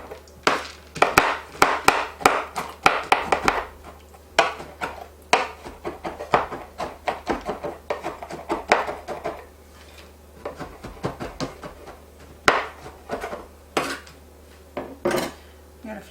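Knife blade chopping chocolate chips on a wooden cutting board for garnishing a chocolate cream pie, close and loud, in irregular bursts of rapid clacking strikes with brief pauses between.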